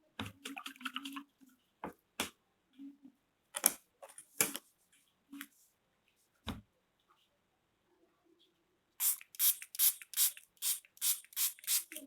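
Short hissing bursts of a spray bottle spraying onto a watercolor painting, several quick squirts spaced apart, then a rapid run of about eight even sprays near the end.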